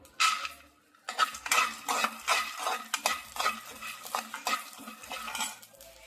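Peanuts being stirred into pulihora, a tamarind rice dish made with leftover rice, in a pan. A utensil scrapes in quick rhythmic strokes with a soft sizzle underneath, close and steady after a short pause.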